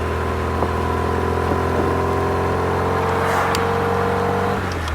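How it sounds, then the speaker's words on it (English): A car approaches and passes on the road, heard from inside a running Triumph Spitfire MKIII, whose steady engine drone dominates while the other vehicle rises briefly near the end. "we got a car coming at us."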